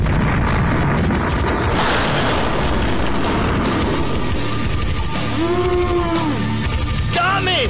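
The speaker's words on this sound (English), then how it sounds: "Stop the bombing run!" Explosions from a bombing run in a film trailer: heavy, rumbling blasts and crashes that stay loud throughout, with tonal sounds rising over them toward the end.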